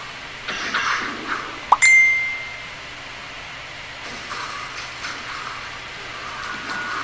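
Several bright phone notification chimes sound over game noise while someone streams League of Legends; one sharp ding stands out clearly and a few fainter tones follow.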